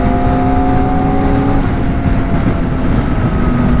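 A 2024 Kawasaki Ninja ZX-4R, a 400 cc sport bike, holds a steady, loud engine note with a smooth, even hum and no talking, close to the machine.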